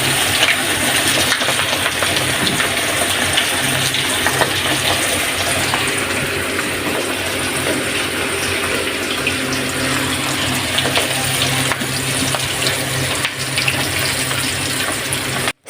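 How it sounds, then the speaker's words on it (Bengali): Olives dropped into hot oil one by one, frying with a steady loud sizzling hiss and crackle, close and continuous, with no talk. "এই তো আমি তেলের মধ্যে একে একে সব জলপাইগুলো দিয়ে দিচ্ছি।"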